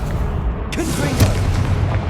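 A Confringo spell in Hogwarts Legacy bursts into a sharp, loud fiery boom, set against battle noise, with a voice shouting spell names around it.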